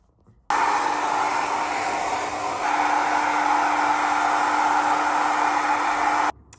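A hair dryer blows on freshly dyed pink hair, a loud, steady whooshing drone that switches on abruptly, runs unbroken for about six seconds with a slight lift in intensity midway, then cuts off. No one speaks.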